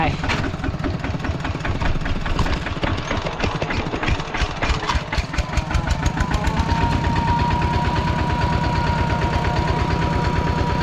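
A tractor engine runs loudly and close, a rough, rapidly pulsing chug that speeds up and settles into a steady, even idle, while a person speaks over it.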